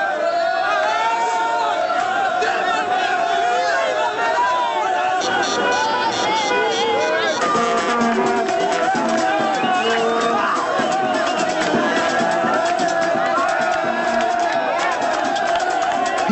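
A street crowd celebrates a national football team's win in Morocco, shouting and chanting victory slogans in a dense, continuous roar of voices with rhythmic chant bursts throughout, while a voice speaks over it.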